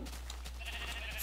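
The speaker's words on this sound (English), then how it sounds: "There's a whole lot of sheep here." Sheep bleating in the Minecraft video game, a short faint bleat or two alone over a steady low hum.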